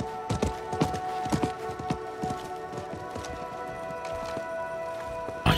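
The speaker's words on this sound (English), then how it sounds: "I think that was the merchant's horse." Rhythmic hoof clip-clops of a merchant's horse on hard ground in Diablo 4, steady and fairly close, with a faint tonal background hum throughout.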